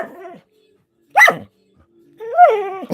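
A dog lets out three separate vocal bursts, barks mixed with whiny, talkative yowls, each close and fairly loud with short silent gaps between them.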